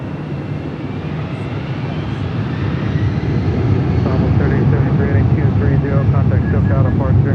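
A Delta airliner takes off at Los Angeles International Airport, a loud, sustained broadband engine roar that builds and swells over several seconds, with faint radio chatter in the background.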